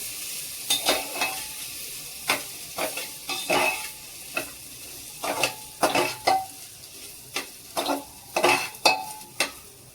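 Dal and other khichdi ingredients are sautéed and stirred in a pan, with repeated scraping and clattering strokes against a constant sizzle, close and fairly loud, without talk.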